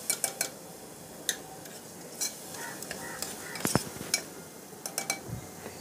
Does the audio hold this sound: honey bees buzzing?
no